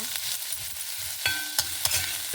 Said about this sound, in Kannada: ಈರುಳ್ಳಿ ಫ್ರೈ ಮಾಡ್ಕೊಂಬ